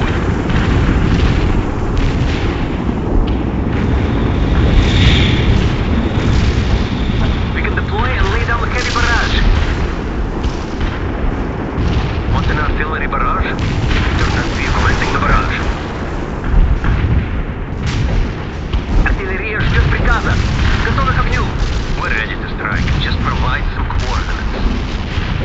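Artillery strike explosions in the Soviet Assault edition of the World in Conflict video game: a continuous loud barrage of booming blasts and rumbling impacts, with voices talking over the din throughout.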